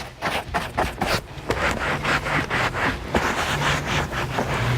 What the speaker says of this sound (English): our detail brush. Get in the cracks. Get all the dirt out of there